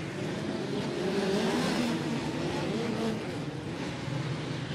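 Midget race cars run laps at Port City Raceway, a continuous engine drone at a distance with no distinct pass-bys.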